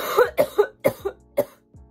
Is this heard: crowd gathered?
no